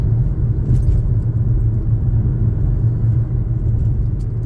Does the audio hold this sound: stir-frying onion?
no